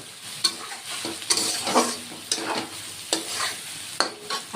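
Spice paste with Kashmiri chili powder stir-fried in a pan, close and loud, with repeated scraping strokes of a spatula over a crackling sizzle in an uneven rhythm.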